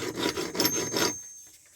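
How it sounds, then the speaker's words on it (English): A hand file rasps across the damaged end of a steel piece used in wooden shoring, with several quick rhythmic strokes close by that stop abruptly into quiet. "Looks like I'm going to have to get the old file onto that one."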